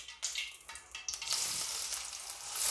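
Two medium chopped onions drop into about half a cup of hot oil, setting off a hiss that swells into a steady, close sizzle after a few quieter clatters, with no speech.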